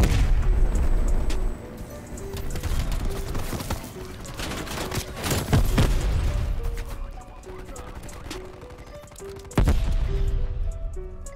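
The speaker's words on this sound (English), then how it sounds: "Go ahead and call this strafe run in." A strafe-run airstrike in Call of Duty Cold War sets off heavy booming explosions and rattling fire in bursts, loud and crashing with short lulls between impacts and a final big blast near the end; a voice speaks briefly underneath.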